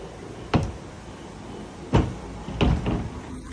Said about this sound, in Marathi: दरवाजा खेचते हा